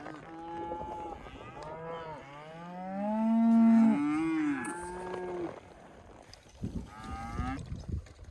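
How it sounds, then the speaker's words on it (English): Cattle bellow in a Montana pasture after being moved, a string of long, loud moos rising and falling, one swelling close in the middle, followed by quieter rustling and thuds. "We got the cattle moved over here and dumped into this last pasture"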